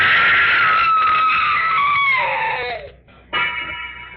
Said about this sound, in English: Wish I never heard that scream.